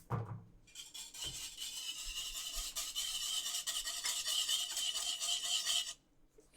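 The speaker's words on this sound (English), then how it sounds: "So I'm going to whisk the yeast into there to dissolve." Yeast is whisked into warm whole milk in a bowl, giving a steady brisk scraping and rubbing for about five seconds, close and moderately quiet, then stopping.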